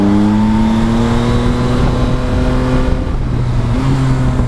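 A 2023 Yamaha Tracer 9 GT+ motorcycle engine hums steadily and close under constant road and wind noise, its pitch dipping and stepping up again near the end as a gear changes.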